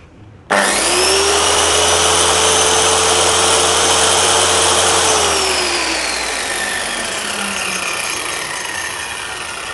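A Scheppach plunge saw spins up loudly and runs steadily while cutting multiplex plywood, a sustained whine that drops in pitch partway through, then winds down into a fading tail.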